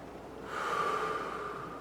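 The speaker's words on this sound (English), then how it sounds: "Inhale. Exhale." A long, deep exhale during a slow neck stretch in a warm-up, rising after a quiet start and holding as a soft, steady breathy rush, close and alone.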